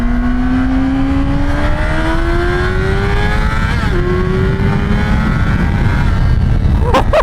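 A Yamaha R6 sport motorcycle engine revs loud and close, its whining pitch climbing steadily toward high RPM, dipping briefly midway before rising again, and ending with a few sharp pops.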